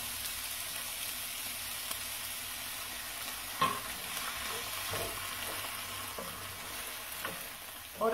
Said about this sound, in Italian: E aggiungo un po' di vino.